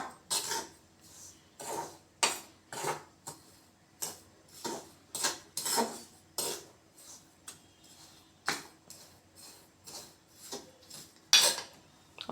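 Rava ladoo ingredients mixed in a bowl, giving a long series of irregular, close clinks and scrapes of a spoon against the dish, without talking.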